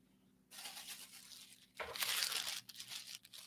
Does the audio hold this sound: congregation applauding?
no